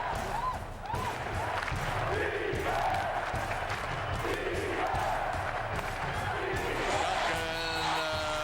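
A Cleveland Cavaliers home crowd roars and cheers in a basketball arena during a game, a dense sustained wall of noise with swelling shouts while an announcer talks over it.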